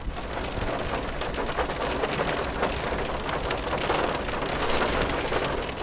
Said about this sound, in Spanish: Igual tiene lo suyo escuchar la lluvia en el techo del auto, mire.